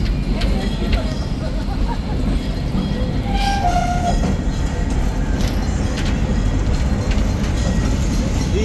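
An empty roller coaster train on a test run at Six Flags Fiesta Texas rumbling steadily along its track, a continuous low roar with faint rattling, fairly loud and unbroken.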